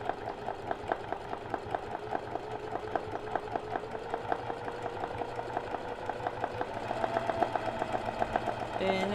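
Sewing machine running steadily at a fast, even pulse while free motion embroidery thread painting is stitched, a moderately quiet mechanical hum under soft background sound.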